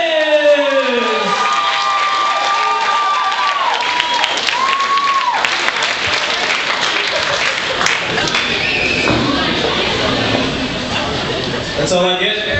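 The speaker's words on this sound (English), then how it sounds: "let's give a big round of applause for Ernesto Lopez!" Comedy club crowd at The Fat Cat bursts into sustained applause with cheers and whoops, loud and close, while voices shout over the clapping.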